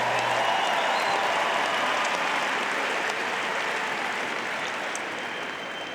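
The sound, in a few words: applause for the two tennis players at the US Open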